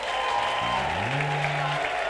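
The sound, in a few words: congregation applauding and cheering God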